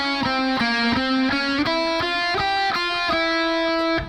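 A distorted electric guitar plays a solo phrase from Bullet For My Valentine's "Army Of Noise" as a quick series of picked notes climbing up the scale. The tone is bright and heavily driven, played alone.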